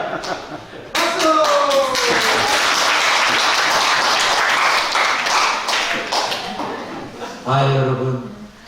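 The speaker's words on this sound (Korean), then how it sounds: "박수" Congregation applause in a Korean church sermon, loud dense clapping swelling in after a voice and holding steadily for several seconds before fading as speech and laughter return at the end.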